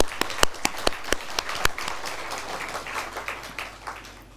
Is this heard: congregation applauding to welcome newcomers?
yes